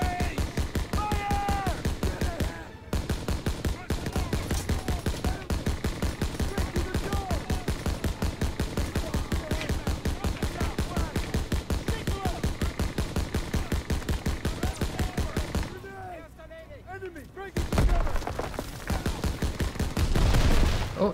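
Sustained rapid rifle and machine-gun fire from soldiers in a World War II battle in Call of Duty: WWII, loud and continuous with dense rattling bursts, a brief gap near the start and a heavier explosive swell late on.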